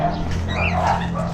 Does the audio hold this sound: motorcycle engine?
no